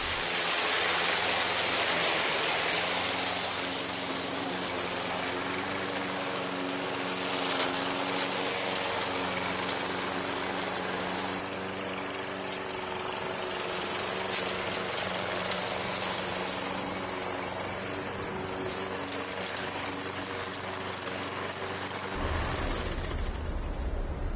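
A lawn mower engine runs steadily at close range, a loud broadband drone with a low harmonic hum throughout, ending the final cut of the season before winter storage; no one speaks.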